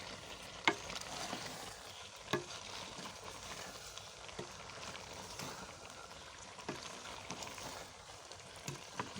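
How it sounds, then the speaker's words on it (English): Bitter leaf soup being stirred in a pot, a soft bubbling simmer with intermittent spoon knocks and scrapes against the pot, fairly quiet and close. "So you add and you stir."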